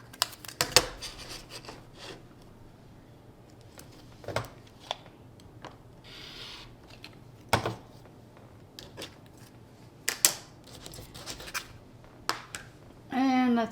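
Fabric and thread being trimmed on a quilt block, with scattered crisp snips and scratchy cuts spaced irregularly, close to the microphone, and a brief voice at the very end.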